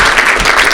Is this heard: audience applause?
yes